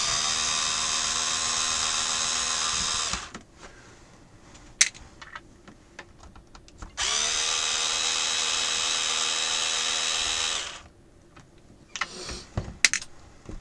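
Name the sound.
removing screws from the back of a Compaq F700 laptop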